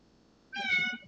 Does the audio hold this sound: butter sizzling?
no